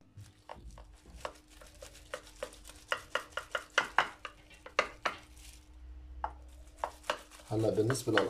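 A knife cuts through a tray of home-style kibbeh before baking, giving a quick series of sharp, close chops and taps against the baking tray, then a denser scraping burst at the end.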